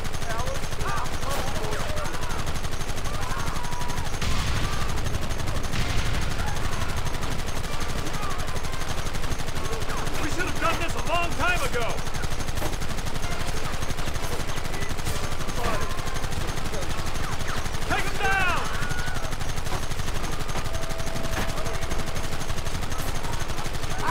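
A Red Dead Redemption shootout rattles with continuous, dense gunfire, rapid shots layered over a steady noisy background, with brief shouted voices mixed in throughout.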